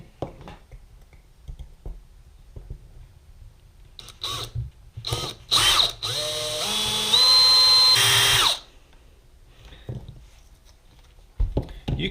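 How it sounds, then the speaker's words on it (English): A small drill bit working into a 1/64 scale model truck, starting with short clicking bursts and then settling into a sustained high whine for a couple of seconds before stopping. Nobody speaks. "I'm using a drill bit here."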